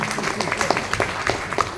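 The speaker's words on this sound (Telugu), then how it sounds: "ఇప్పుడు కొట్టండి." An audience claps at an indoor leaders' strategy meeting, with steady, dense applause of even loudness throughout.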